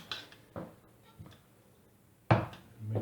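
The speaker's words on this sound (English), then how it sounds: "So I'll put 2 tablespoons of sugar in." Spoonfuls of sugar go into a plum crumble filling, heard as a few quiet, separate clinks and taps of a spoon against a dish, close and sparse, with a louder clatter near the end.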